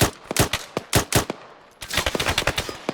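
Rifle and machine-gun fire from an Arma 3 military combat game crackles in sharp, rapid bursts, one volley, a short lull, then a denser string of shots, loud and close.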